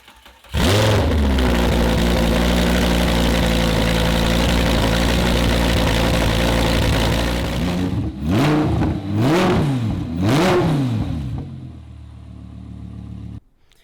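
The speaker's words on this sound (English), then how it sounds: "I think it's only fitting we hear this thing run one last time with absolutely no mufflers on it" A salvaged, damaged Audi R8 engine runs with no mufflers fitted, a loud steady rumbling idle that breaks into three sharp revving bursts near the end before settling back down and cutting off.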